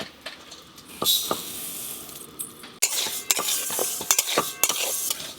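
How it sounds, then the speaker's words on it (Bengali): Sona moong dal is dry-roasted and stirred in a pan before boiling. Close, intermittent scraping and grainy rattling grow busier and louder in the second half, with a faint sizzle underneath. "এই যে সোনা মুগের ডাল সেদ্ধ করার আগে ভালো করে একটু নেড়ে নেব।"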